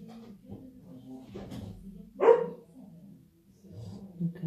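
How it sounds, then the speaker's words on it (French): A female dog, impatient, lets out a few sharp barks and whimpering yips at moderate distance, with short pauses between them and no talk. "si vous écoutez des aboiements, c'est ma chienne qui doit s'impatienter"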